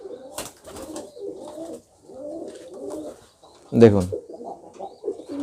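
Pet pigeons being kept healthy through a cold coo in soft, repeated low bursts. Their calls are close and moderately loud, and someone speaks over them between coos.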